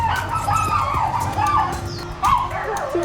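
A dog on a street in Vietnam barks in a few sharp, close bursts, mixed with street background noise and light traffic hum.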